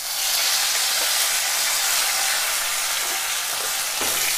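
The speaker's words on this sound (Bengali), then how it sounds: "টমেটোটা একটু ভেজে নেব" Tomato frying with browned onions in a pan makes a steady, close sizzling hiss with light stirring scrapes, and no one speaks.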